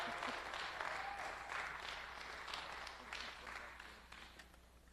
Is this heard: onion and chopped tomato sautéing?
no